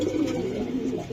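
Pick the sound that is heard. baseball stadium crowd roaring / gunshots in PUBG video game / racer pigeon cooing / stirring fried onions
racer pigeon cooing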